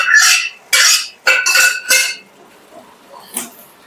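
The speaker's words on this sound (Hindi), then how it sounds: "अब मैं राजमा डालूंगी, ठीक है दोस्तों, राजमा इस तरह से डाल देती हूँ" Kidney beans (black rajma) tipped into a pan of oil-fried masala for dhaba-style Punjabi rajma, heard as several loud clattering bursts of beans and utensil on the pan, followed by quieter faint scraping and a brief final clink.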